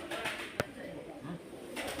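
A pigeon coos softly at a temple against steady outdoor ambience, with one sharp brief knock or click near the start.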